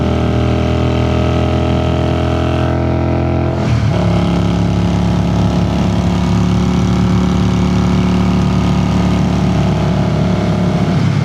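A 1981 Honda CX400C motorcycle engine runs steadily and loud while riding, with a shift in engine note partway through and a continuous close mechanical drone throughout, no talk.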